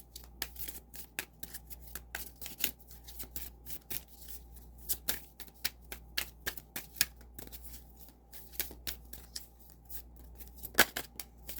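Tarot cards being shuffled by hand in a quiet room: a long run of crisp, quick riffling snaps and soft card slaps at an irregular rhythm, close and fairly faint over a low steady hum.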